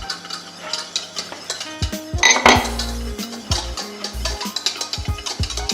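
A utensil stirs a hot lemon juice and pectin mixture in a pot, clinking and scraping against the metal in quick repeated strokes, close and fairly loud, with no talking.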